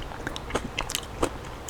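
Close, crisp bites and crunchy chewing of fresh chonggak kimchi, the Korean ponytail radish kimchi, with several sharp crunches spread unevenly through the chewing.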